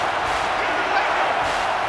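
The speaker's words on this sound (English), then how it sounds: "The crowd really making it difficult." Stadium crowd in a college football video game, Utah State at Oklahoma, a loud continuous roar of many voices, dense and unbroken, swelling slightly near the middle.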